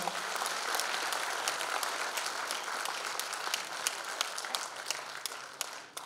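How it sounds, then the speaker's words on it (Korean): An audience at a lawmaker's legislative report meeting claps steadily to welcome the host onto the stage, a dense and even round of applause with no talking over it. "큰 박수 부탁드립니다."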